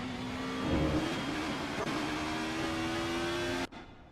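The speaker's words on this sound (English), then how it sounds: "Here's Dominic Fobard weaving through traffic." DTM race cars from the 2000s roar around Circuit Zolder in the Assetto Corsa racing game, a continuous engine drone rising and holding before cutting off abruptly near the end, with no voices.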